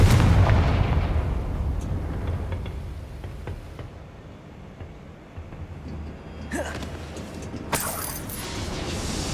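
A Confringo blast spell in the game Hogwarts Legacy bursts with a heavy rumbling boom that fades into a low roar, followed later by a couple of sharp magical zaps.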